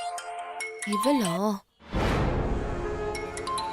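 A mobile phone ringtone plays as a bright, repeating electronic melody for an incoming call, broken briefly by a noisy rush before the tune resumes, with a voice heard over it.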